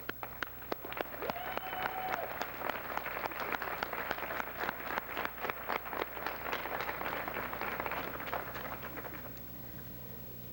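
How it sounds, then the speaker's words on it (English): An audience at a commencement class day ceremony gives a long round of applause, fairly distant and even, with dense clapping persisting for about ten seconds before tapering slightly. "I think we all owe them a big round of applause"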